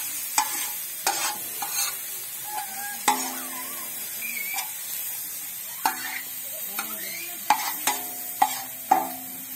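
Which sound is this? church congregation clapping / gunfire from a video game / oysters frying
oysters frying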